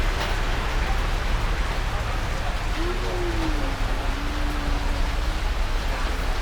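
Steady rain hisses continuously outside a durian fruit shop in Rayong, Thailand, a dense even wash of noise with a faint low hum drifting through partway.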